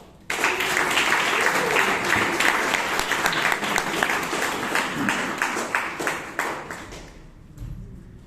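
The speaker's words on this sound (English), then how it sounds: "please welcome with a big round of applause Toastmaster Nestor" Members at a Bangalore Toastmasters meeting welcome a speaker to the stage with a burst of applause that starts abruptly, stays full and lively, then thins out and fades near the end.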